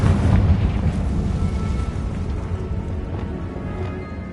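A fiery blast spell from a Harry Potter video game erupts in a loud, rumbling boom set inside a tomb, its low roar holding strong and then slowly fading over several seconds.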